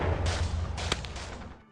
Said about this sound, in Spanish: Gritos desesperados y aterradores llenaban el aire, acompañados por los disparos de armas de fuego